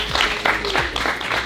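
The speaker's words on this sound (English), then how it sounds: "give him a round of applause" Audience applause rises for a speaker being introduced at an event: a dense, steady wash of handclaps from a room full of people, filling the whole moment.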